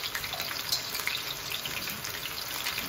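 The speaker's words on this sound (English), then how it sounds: "Just a little olive oil just to cover the bottom of the pan." Olive oil poured into a heated pan for oxtail stew gives a steady, bright sizzle that holds level and close for about three seconds, with no talking.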